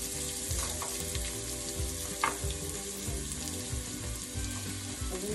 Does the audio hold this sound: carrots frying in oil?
yes